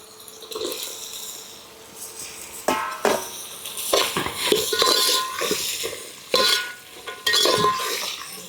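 A spoon stirs and scrapes cut vegetables around a hot pan for vegetable biryani, with irregular clattering strokes against the metal over a soft sizzle, close and fairly loud.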